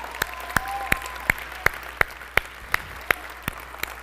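Church congregation clapping lands as a steady, evenly spaced beat of sharp, distinct claps, about three per second, over a quiet room with a faint tone at the start.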